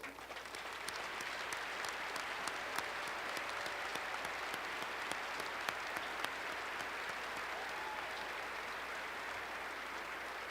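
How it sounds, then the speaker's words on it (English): Steady applause for the faculty fills the arena at a high school graduation ceremony, dense crowd clapping running evenly throughout at moderate, slightly distant level, with no one speaking over it. "Let's give them a round of applause"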